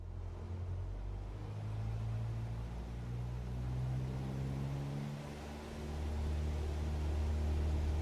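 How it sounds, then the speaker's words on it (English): Aircraft engine being revved up on the ground in Microsoft Flight Simulator 2024, a steady loud low drone with shifting harmonic tones that dip briefly and then rise again, with no talking. "Let me rev the engine for a minute here."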